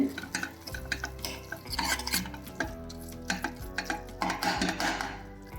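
Spoon stirring radish leaf curry with gram flour in a pan, a steady run of scraping and clinking strokes with soft sizzling underneath, close and fairly loud.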